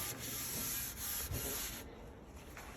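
A Kobalt grinder resurfaces a metal griddle, stripping it back to bare metal with a steady, loud abrasive hiss. The hiss runs close and continuous, dips briefly a few times, then thins toward the end.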